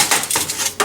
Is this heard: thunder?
no